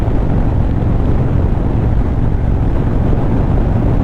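A motorbike ridden outside Julia Creek in 40-degree heat gives a constant loud engine rumble blended with heavy wind buffeting, unbroken throughout.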